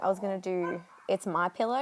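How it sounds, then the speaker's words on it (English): A dog barks intermittently indoors in the background during a scrapbooking session, its yips partly masked by someone talking close up. "Sorry if you can hear the dog barking in the background."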